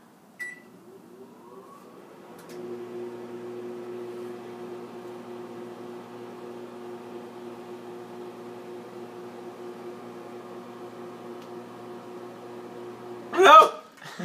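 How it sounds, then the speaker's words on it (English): A microwave oven hums steadily while heating s'mores, opening with a door click and ending with a sharp beep and a clatter about thirteen seconds in. "But now we just need to microwave it."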